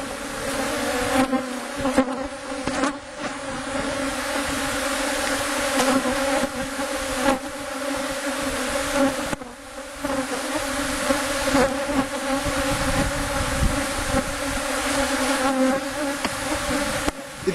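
Honey bees buzzing over an open hive box holding honey and brood during an inspection, a dense continuous drone with a steady hum that swells and dips slightly, close by and without talk.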